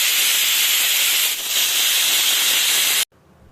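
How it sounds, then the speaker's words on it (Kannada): A pressure cooker vents a strong, continuous steam hiss while cooking chicken biryani, loud and close for about three seconds before cutting off abruptly. "ಜಸ್ಟ್ 2 ವಿಷಲ್ ತೊಗೊಂಡ್ರೆ ಸಾಕಾಗುತ್ತೆ."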